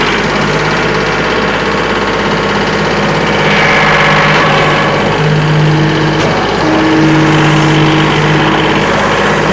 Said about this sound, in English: I'm going to go ahead and fire this tractor up.